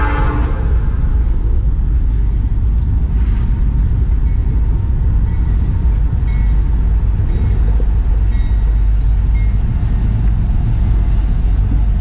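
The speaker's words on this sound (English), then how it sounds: "We'll pause for the locomotive." A locomotive rolls past an outdoor tailgate auction, a loud, steady, close rumble of wheels and engine that fills the whole stretch without letting up.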